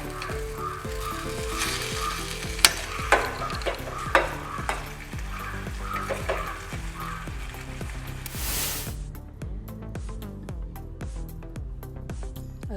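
Fish gravy made with koduva fish (barramundi) bubbles and sizzles steadily in a pan, with a few sharp clinks of a utensil and a brief louder hiss partway through.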